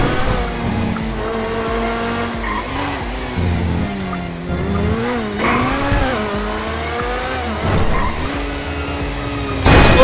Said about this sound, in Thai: มาลองเสียงรถเฉยๆนะครับ